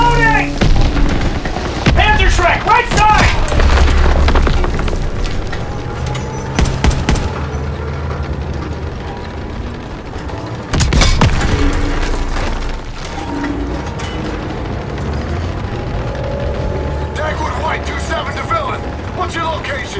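Heavy battlefield gunfire and explosions in Call of Duty WW2, loud booms and bursts of rifle and machine-gun fire crashing repeatedly under shouted soldier voices.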